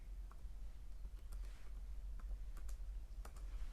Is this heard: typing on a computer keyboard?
yes